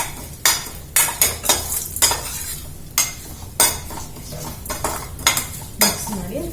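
Mango pachadi being stirred in a pan, a spoon scraping and knocking against the metal in an irregular series of sharp clinks and scrapes, close and fairly loud, with no talking.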